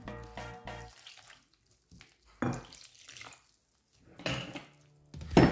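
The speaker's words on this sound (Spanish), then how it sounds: "Y vamos a ir agregando el agua tibia" Warm water is poured in short splashing bursts into all-purpose wheat flour with salt and oil for a simple bread dough, with gaps of near silence between pours.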